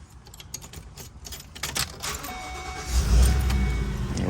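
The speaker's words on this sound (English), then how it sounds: "let's take a look at the engine, or start it" A 2016 Winnie Minnie 25B motorhome starting up: light keys and clicks at first, then the engine cranks and catches into a low, steady idle rumble that builds and holds close by, with no voices.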